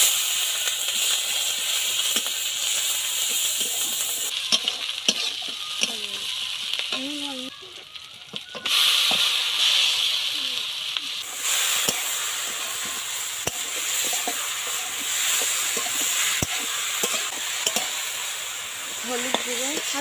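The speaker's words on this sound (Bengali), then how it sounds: "5 ফোড়ন দেওয়া হলো।" Panch phoron whole spices sizzle and hiss in hot oil in a home kitchen where fried fish and bhut kochu are being cooked, with stirring and clinks through a loud, steady crackle, briefly dropping before resuming.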